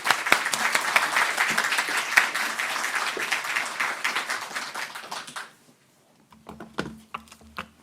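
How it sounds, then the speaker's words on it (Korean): A church congregation greets a pastor with loud, dense clapping that fades out after about five seconds, followed by a near-silent pause and then a few scattered claps and light knocks. "우리 박태현 목사님 나오실 때 크게 박수로 환영하며 맞이하겠습니다."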